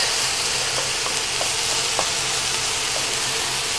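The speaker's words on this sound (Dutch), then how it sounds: "dan moet je net zo lang roer bakken tot alle aubergine zacht is" Aubergine stir-frying in a pan, a loud steady sizzle with occasional faint scraping taps from stirring, close and continuous with no talk.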